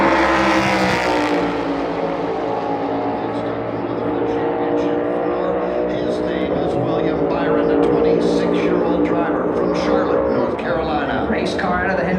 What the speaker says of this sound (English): Boy, he drove it into turn number 1 hard, and then up the racetrack he went